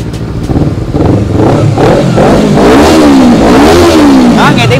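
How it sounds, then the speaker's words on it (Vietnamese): A Honda CBR250RR motorcycle with an aftermarket exhaust revs hard, its engine rising and falling through several loud, close throttle blips with a crackly edge, continuous throughout. "mở cho anh em nghe tiếng bô luôn"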